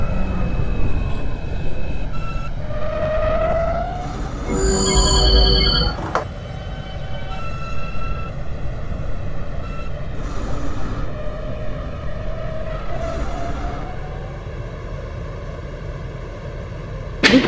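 A simulated R160A/C subway train on the L line running in the OpenBVE train simulator game, a loud steady rumble with rising and falling motor whine and brief chime-like tones.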